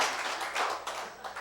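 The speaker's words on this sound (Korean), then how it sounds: "박수까지 쳐." Church congregation clapping during a Korean sermon, a dense, steady patter of many hands filling the whole moment at moderate volume, with no talk over it.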